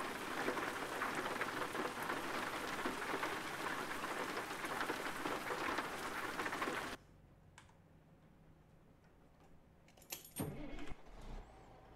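Heavy rain in a Montana truck-driving simulator, a dense loud hiss of drops on the cab that cuts off abruptly partway through, leaving quiet engine hum and a few brief clicks and knocks.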